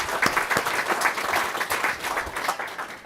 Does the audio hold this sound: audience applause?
yes